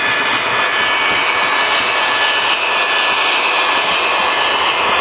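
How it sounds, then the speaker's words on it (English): A Union Pacific Veranda gas turbine locomotive hauls a freight train departing Seattle, giving off a loud, steady jet-like roar with a sustained high whine and no speech. "The turbine's going too fast."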